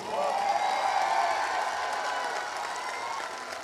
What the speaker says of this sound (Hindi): एक जोरदार और शानदार तालियां खुद के लिए होनी चाहिए।